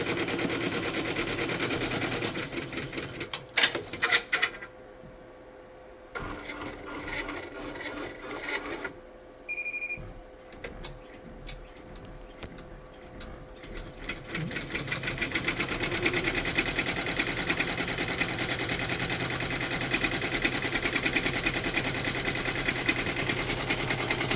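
An embroidery sewing machine stitches the outline of the state of Iowa for a drone search and rescue logo, a rapid mechanical needle clatter that pauses briefly midway and then resumes, steady and close.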